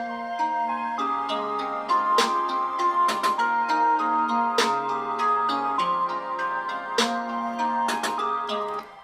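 Beat built from a melodic main sound with a simple snare pattern layered over it, steady tonal chords with sharp snare hits recurring in a regular rhythm, played alone at moderate level.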